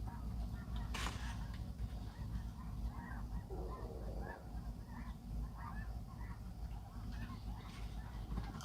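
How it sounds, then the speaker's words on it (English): Geese honking outdoors near a railway line in Friona, Texas, faint and somewhat distant, with scattered calls over a steady background rumble. "I swear them geese sounds like dogs right now."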